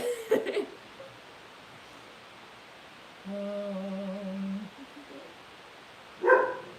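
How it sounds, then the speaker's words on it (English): A dog barks in a short sustained burst near the middle, with a brief yelp just before and a sharper bark or yip near the end, heard fairly close in a quiet indoor room. "He goes upstairs and looks out the window and looks down the road and barks at the UPS man"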